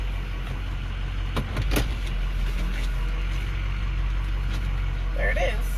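Vehicle engine running steadily while a trailer is backed up, a constant low rumble close to the microphone with a few brief clunks, and a person speaking over it.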